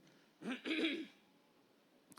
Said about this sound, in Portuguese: Eu tenho um pigarro antigo